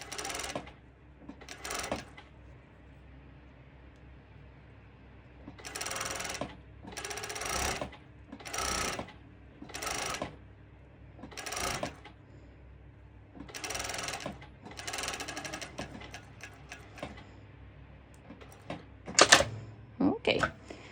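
A cover stitch sewing machine runs in repeated short bursts while stitching a swimsuit seam, each whirring run separated by pauses, close and clear.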